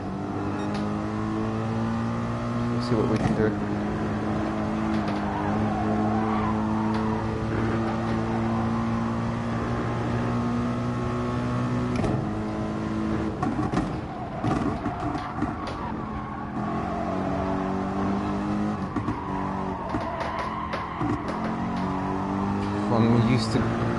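Mercedes-AMG GT3 race car engine in GT Sport, a steady droning tone rising and falling through gear changes, heard under someone talking throughout.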